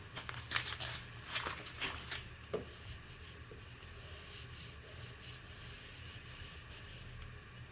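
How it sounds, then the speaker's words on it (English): Hand sanding of gray primer on a dented MGB car body panel, a few scratchy strokes early on with quiet rubbing and room noise after. "I'm gonna sand this down so we can get the gray off"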